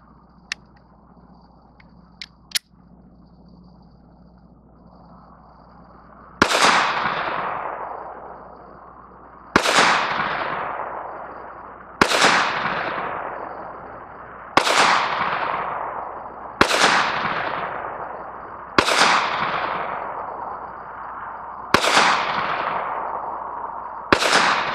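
Eight loud shots from a Smith & Wesson M&P Shield 2.0 pistol, fired outdoors at a steady pace a couple of seconds apart, each sharp crack trailing off in a long echo, after a few faint clicks and handling noises at the start.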